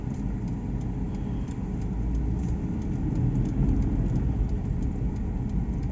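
Ford Everest or Toyota Fortuner SUV engine running steadily around 2500 RPM, a continuous low drone heard from inside the cabin, building slightly toward the end with no talk over it.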